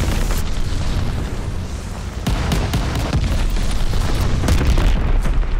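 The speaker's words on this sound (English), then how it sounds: "Allied glide bomber on the way" Allied glide bomber strike in the shooter video game Call of Duty: Vanguard, heard as loud, continuous, dense rumbling blasts, with a series of sharp cracks building up partway through.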